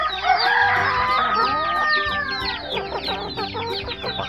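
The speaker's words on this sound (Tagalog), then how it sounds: "Mga higante kong manok." Large chickens in a backyard breeding area (Black Australorp, Kabir and Rhode Island Red crosses) cluck and squawk nearby while a rooster crows loudly, overlapping calls with no talking.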